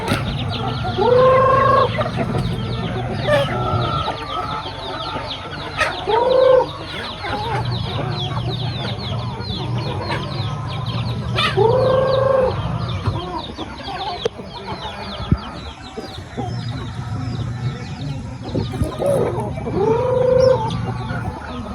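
Chickens cluck and squawk in repeated bursts, fairly close, over a low rumbling background with faint crowing.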